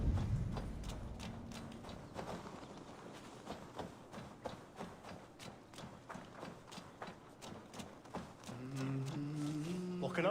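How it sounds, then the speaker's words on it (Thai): Horses at a horse seller in Assassin's Creed Valhalla: a steady clip-clop of hooves, fairly quiet and continuous, with a low rumble at the start and a tonal game sound near the end. "โอ้มีม้าขาย"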